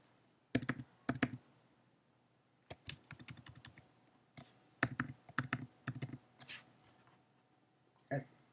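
A computer keyboard is typed on in short bursts of clicking keystrokes separated by brief pauses, heard close in a quiet room with a faint hum.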